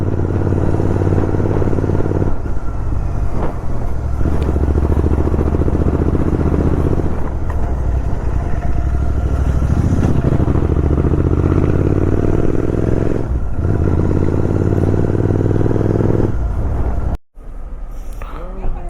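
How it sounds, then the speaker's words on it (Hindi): Steady, loud motorcycle engine rumble throughout a ride near Badrinath on low fuel, with some rattling and clatter, briefly cutting out near the end before resuming. "बाइक अलग ही गड़गड़ाट रही है"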